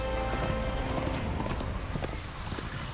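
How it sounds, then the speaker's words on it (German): A horse's hooves clip-clop in the Darksiders 2 game, a quick, steady run of close hoof beats over a dense background of game music and ambience. "Verzweiflung ist unser Pferd, okay."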